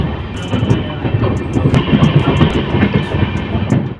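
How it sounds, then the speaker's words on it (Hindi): Jogbani–Siliguri Intercity Express arriving at Kishanganj, heard from inside a general coach: a steady loud rumble of wheels and carriage with rhythmic clatter and occasional sharp metallic clicks, continuous throughout with no talk. "ट्रेन हमारी किशनगंज अराइवल हो रहा है।"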